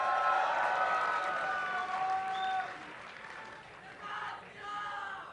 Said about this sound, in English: if you want to cheer up for EpiK to take this game to a game 3, let me hear you guys in the audience